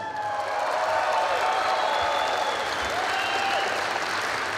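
A large crowd applauds steadily in Arēna Rīga at the State Police anniversary celebration, a dense sustained wash of clapping with faint cheering filling the hall throughout.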